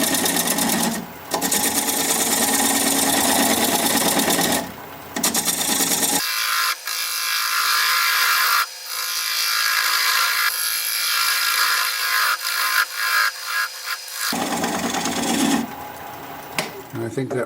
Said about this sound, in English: I'm going to use a 3/8 inch bowl gouge and commence to removing that tenon.